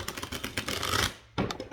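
Tarot cards, slightly warped and bending, shuffled by hand in quick riffling bursts of dense papery clicks, a short pause, then another burst, close and fairly loud with no voices.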